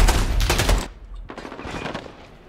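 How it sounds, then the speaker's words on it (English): AK-47 assault rifle fire in Call of Duty, a loud close burst of rapid automatic shots that breaks off, then resumes as a second, slightly quieter stretch of gunfire. "This AK-47 is a beast."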